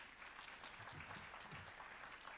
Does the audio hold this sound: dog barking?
no